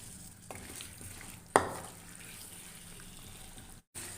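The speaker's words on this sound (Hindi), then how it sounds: "आलू और चने डालने के बाद इसे अच्छी तरह मज़ीद 5 मिनट तक हमने भूनना है" Green chickpeas and potatoes frying in ghee, a soft steady sizzle with stirring sounds and one sharp clatter midway, close and alone without talk.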